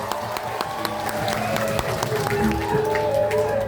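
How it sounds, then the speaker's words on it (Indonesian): Audience applause at a Balinese drama gong theatre performance in Nusa Penida, Klungkung: a crowd clapping steadily and fairly close, with sustained musical tones and murmuring underneath. "Kasih tepuk tangannya dong"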